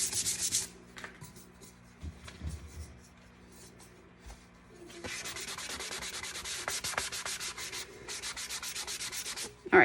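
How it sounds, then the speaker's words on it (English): A coated tumbler is hand-sanded in a short burst, then after a quiet pause in a longer run of close, rhythmic scratchy strokes. "I can sand it at this point right now and not do any damage to it"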